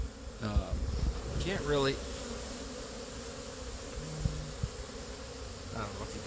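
Honeybees buzzing around a hive on a day of heavy pollen flow, a steady close drone with louder passes of individual bees, while a person speaks briefly over it.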